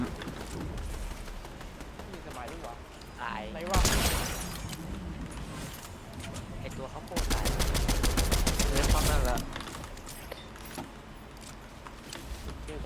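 Bursts of rapid gunfire ring out in a video game, two dense volleys of rattling shots standing out over a busy game soundscape while players talk.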